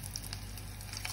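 Zucchini fritter batter spooned into hot frying oil gives a steady, close crackling sizzle with small pops throughout.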